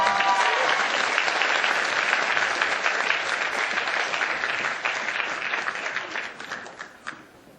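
A lecture hall audience applauds after a speech by South Korean politician Ahn Hee-jung, with dense sustained clapping from many people that holds steady for several seconds before thinning and dying away.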